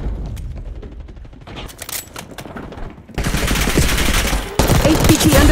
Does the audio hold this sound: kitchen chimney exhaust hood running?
no